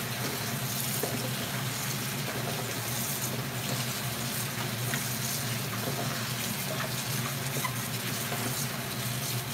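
Tap water runs steadily while cabbage is rinsed in a kitchen sink, a close, continuous gushing rush with no pauses.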